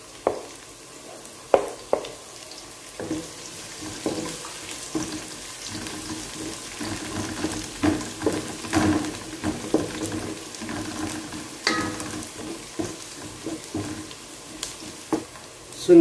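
Chopped garlic sautéing in a pan for salmon-head sinigang, a steady low sizzle with scattered soft scrapes and stirring knocks, close by and moderately quiet, with no talking.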